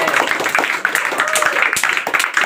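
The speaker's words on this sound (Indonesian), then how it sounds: "Tepuk tangan lagi." An audience claps hands in a classroom, a steady burst of many overlapping claps at moderate distance with faint voices mixed in.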